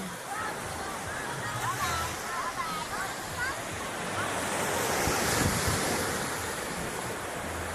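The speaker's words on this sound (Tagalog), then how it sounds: "ang lakas ng alon." Strong ocean waves at a beach resort in Bolinao, Pangasinan, with loud surf washing and breaking close by amid heavy wind buffeting, swelling louder near the end, and voices in the background.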